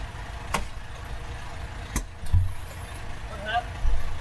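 A rough, loud truck engine rumbles nearby, as if worn out and rattling, heard as a low continuous drone with a few sharp knocks over road and cab noise.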